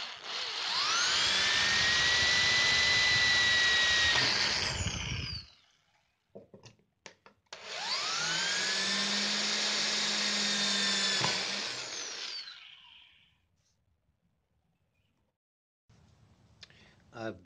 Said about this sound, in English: I'm going to drill through the top of the aluminum,